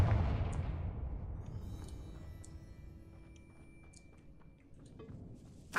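A Confringo blasting spell explodes in the Hogwarts Legacy video game, a loud boom at the start that rumbles and decays over several seconds, with faint clicks and a sharp crack near the end.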